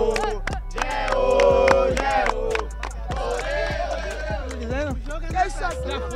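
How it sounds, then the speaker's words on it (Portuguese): Football fans shout and chant together in the stands, a dense mass of raised voices that swells and falls steadily throughout, with sharp individual cries breaking through the crowd noise. "Torcida grita."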